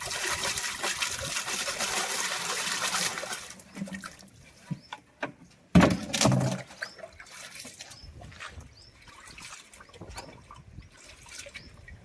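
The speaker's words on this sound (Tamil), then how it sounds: "நம்ம வந்து இப்போ கோவானத்துலயே அந்த உப்பு தண்ணிக்குள்ள தட்டப்போம்" Dried anchovies being washed and tapped in salt water, heard as continuous sloshing at first, then scattered splashes, a louder burst of water movement midway and softer intermittent taps and drips after.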